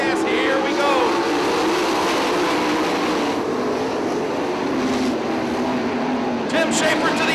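A 410 sprint car accelerates on the Attica Raceway Park track, a dense, steady engine roar running throughout with background voices faintly mixed in.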